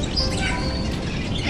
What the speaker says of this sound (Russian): Ой, еще один попугай. Здесь тоже попугай,